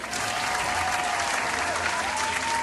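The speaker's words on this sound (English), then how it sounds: "A round of applause," Sustained audience applause for participants at the close of a debate, a thick continuous burst of many hands clapping at steady loudness with crowd noise underneath.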